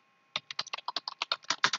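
Keys clack on a computer keyboard in a quick, uneven burst of about a dozen close, crisp strokes, with no one talking.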